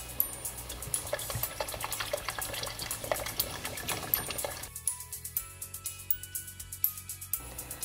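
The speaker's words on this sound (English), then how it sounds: "Add some water." Water poured into a pot of South Indian ginger lemon rasam, a steady moderate splashing gush lasting several seconds before thinning to a quieter trickle.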